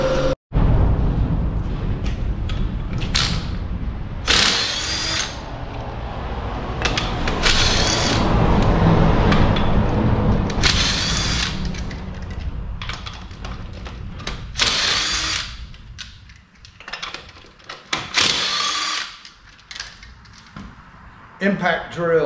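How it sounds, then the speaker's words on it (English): Loud bursts of an impact drill whirring and rattling in repeated short runs while working on a panel, interspersed with clanks and handling noise, mixed with scattered talk. "Impact drill."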